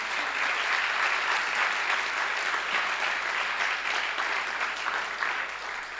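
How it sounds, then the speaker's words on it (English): Sustained, dense applause from an audience at the ARIA 2023 awards ceremony honoring agriculture finalists, steady and loud throughout with no voices above it. "Let's applaud them."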